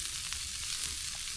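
Onions fry in a pan outdoors at a boat ramp, a brief, soft, steady hiss of sizzling with no voices.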